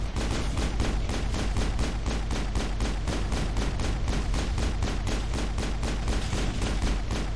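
Rapid pistol gunfire against Geth tanks in Mass Effect, a long unbroken series of sharp, evenly spaced shots, about four per second, loud and dense with no voices over it.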